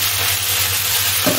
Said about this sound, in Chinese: 用个镬铲嚟将佢打散过嚟得噶啦